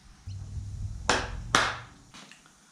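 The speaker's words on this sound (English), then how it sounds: "clap your hands" Two sharp, loud hand claps ring out close by, about half a second apart, over a low mechanical hum in a workshop where old engine parts are being cleaned.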